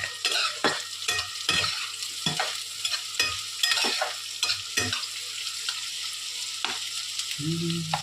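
Onions sizzling steadily in hot oil in a pan, with frequent sharp scrapes and clinks of a spoon stirring them, close and fairly quiet.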